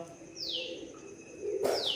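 Pigeons coo in a low murmur while two bright, descending whistles sound, one early and one near the end.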